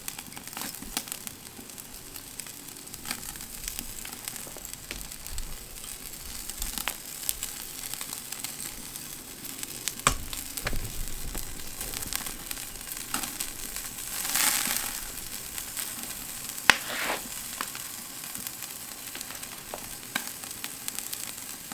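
Bone marrow bones cooking in a greasy pan, with a continuous crackling sizzle of popping fat that rises and falls over a long stretch, fairly quiet and close, with no talk.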